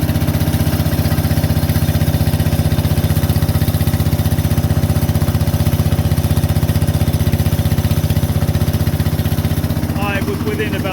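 An Onan generator engine runs loud and close, recorded about 4 inches from the exhaust, a steady throbbing drone with a rough exhaust pulse that holds unchanged throughout.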